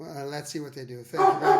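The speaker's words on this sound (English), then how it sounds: "sorry for the dog" A dog barks in the background during a podcast call, a few yips and barks rising near the end while people talk over them and say goodbye.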